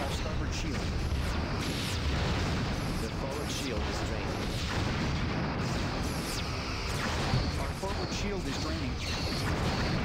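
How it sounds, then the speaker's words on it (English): Quantum torpedoes fire in a Star Trek space battle game as repeated booming blasts and crashing impacts, with a voice speaking throughout. "so they're firing quantums at the moment"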